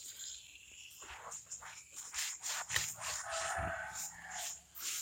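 Foam sponge rubbing tire blackener onto a Honda CBR150R motorcycle tire, repeated close scrubbing and squeaky swishing strokes in an uneven rhythm, with no talking.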